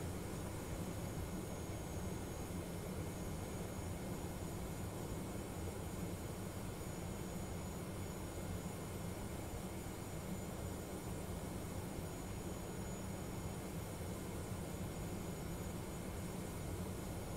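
Boeing 717 airliner in a flight simulator game, cruising over the city of Raleigh on approach to the airport, with a steady, dense engine and airflow roar that holds unbroken at constant loudness throughout.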